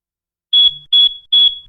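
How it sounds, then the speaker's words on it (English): A smoke detector with a low battery sounds three loud, shrill electronic beeps in quick, evenly spaced succession, close and with no voices. "What's that high-pitched beeping sound? That's the smoke detector. It keeps going off."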